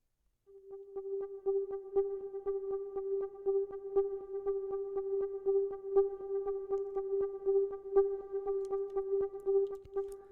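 Mooting Forward, a signature tension cue from a hybrid sample library, plays as a quiet sustained mid-pitched drone with overtones and a steady pulsing tick, forming a subtle, continuous texture for ten seconds.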